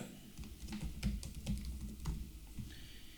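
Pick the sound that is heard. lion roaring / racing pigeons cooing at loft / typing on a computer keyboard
typing on a computer keyboard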